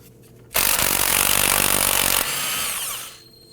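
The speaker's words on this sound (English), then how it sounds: "Using a 13mm socket, let's go ahead and loosen and remove the axle nut." Impact gun with a 13mm socket spinning off an axle nut on a 2001-2009 Volvo S60: one loud, close, continuous hammering rattle lasting about two and a half seconds, then easing into a softer whir before stopping.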